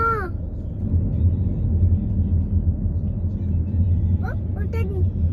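Buses and other traffic pass along a busy street, a continuous low rumbling drone heard from inside a vehicle, with children's voices chirping and speaking briefly near the start and toward the end.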